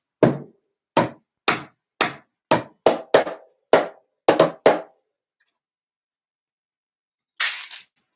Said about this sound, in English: Let's bring back in my trusty old milk carton